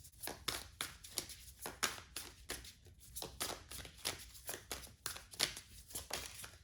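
Tarot cards being shuffled by hand for a reading, a continuous run of close, dry riffling and flicking bursts in quick rhythm, fairly soft, with no talking over it.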